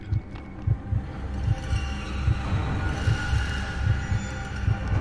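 A deep, slow heartbeat thuds steadily in the horror video game Conarium, paired low pulses repeating about once a second beneath a dark ambient drone and faint music.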